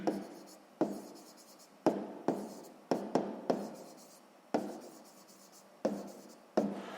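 Pen strokes on paper while working a sixth-grade math exercise, a series of about ten short scratching bursts spaced irregularly, close and fairly quiet.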